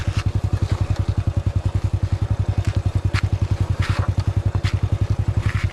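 Honda 100 underbone motorcycle on a steep dirt trail, its single-cylinder engine thumping in a fast, even pulse close to the microphone, with occasional clatter over the top.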